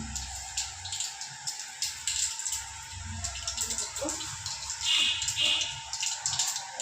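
Mustard, fennel, cumin and fenugreek seeds splutter and crackle in hot oil, a dense close sizzle with scattered pops, while a voice speaks over it.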